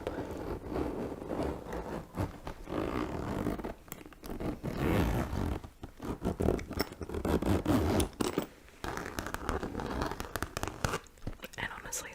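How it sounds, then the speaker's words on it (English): A zipper closes a bag's main compartment in a run of close, scratchy, rasping pulls broken by short pauses, with whispering in between. "Let's zip it up."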